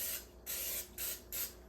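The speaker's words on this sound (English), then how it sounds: "I'm going to use a little bit of that non-stick spray to spray on my pan" Non-stick cooking spray hisses onto a frying pan in three short close bursts separated by brief pauses, with no talking.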